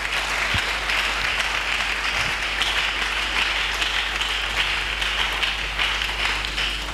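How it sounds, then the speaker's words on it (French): A church congregation applauds during a sermon, with dense, sustained clapping from many hands that holds at an even, fairly loud level throughout, with no voices breaking through. "Est-ce que nous pouvons acclamer?"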